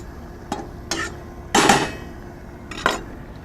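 A spoon stirring paprika and garlic into a chicken poblano stew in a pot, with scattered clinks and scrapes against the pan and one louder burst of stirring midway, close and alone without talk.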